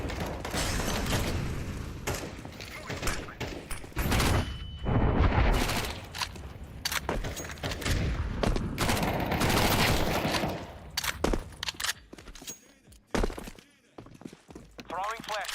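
Gunfire in Counter-Strike 2 crackles in dense, repeated bursts of shots with clattering mechanical sounds between them, while a player talks over much of the action.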